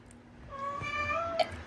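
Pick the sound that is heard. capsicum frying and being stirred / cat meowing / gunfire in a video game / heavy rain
cat meowing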